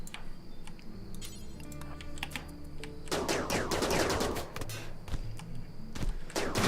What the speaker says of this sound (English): Everybody, fire at Tim.